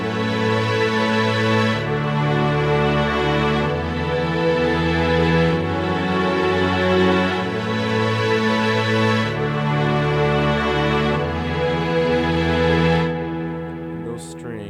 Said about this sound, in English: And those strings, once again, flex the all string sustain from Essential Strings.